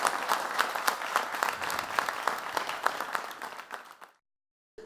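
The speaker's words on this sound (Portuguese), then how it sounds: "Vamos aplaudir novamente" An audience at a televised church program applauds the pastor, a lively burst of crowd clapping that fades over about four seconds and then drops to silence.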